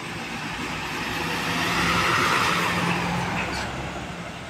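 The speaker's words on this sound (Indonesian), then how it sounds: "lagi di shelter penurunan penumpang ini ada bus Dali 5 teman-teman" A Dali Mas bus rolls up to the passenger drop-off shelter at Purabaya bus terminal in Surabaya at night, a broad engine rumble swelling as it nears and then easing off.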